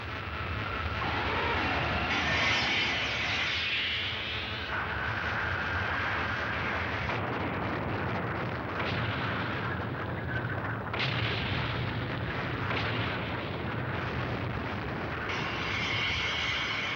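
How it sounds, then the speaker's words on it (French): An antiproton cannon fires in a French cartoon, a sustained roaring blast with rumbling, whooshing layers that hold for many seconds, loud and dense throughout. "Le canon antiproton!"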